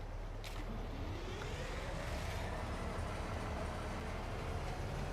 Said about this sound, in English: Okay, the train is here